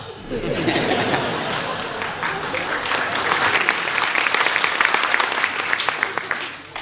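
A comedy show audience bursts into sustained applause with scattered laughter and chatter, a dense crowd of clapping that builds and then tapers off.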